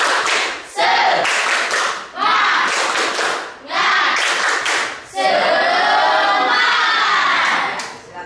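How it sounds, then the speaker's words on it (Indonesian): A classroom of children performs a rhythmic clap-cheer in several loud bursts with brief pauses, ending in sustained shouting and cheering. "Tepuk semangat"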